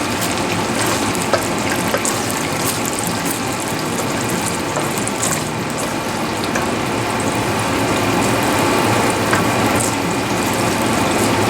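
Two kinds of ají chili peppers fry in a pan for Peruvian ají de gallina, producing a continuous dense crackle and sizzle, loud and close, with no talking.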